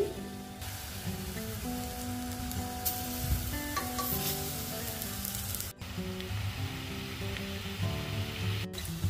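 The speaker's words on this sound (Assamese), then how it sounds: "পকৰি যেনেকৈ ভাজোঁ তেনেকৈয়ে ভাজিব" Chana dal batter dropped into hot refined oil in a kadai on a gas stove, fried like pakora, giving a steady close sizzle throughout, with soft clinks and a brief dip partway.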